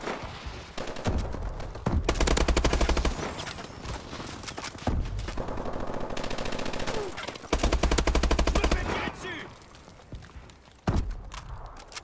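Covering fire in Call of Duty Advanced Warfare, repeated loud bursts of rapid automatic gunfire separated by brief pauses, with faint footsteps between the volleys.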